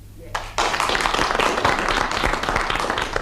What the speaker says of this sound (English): If so, will you please clap?